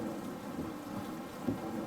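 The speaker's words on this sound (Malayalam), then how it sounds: "നല്ല മഴയാ" Steady rain pours down with a low rumble of thunder underneath, no voices present.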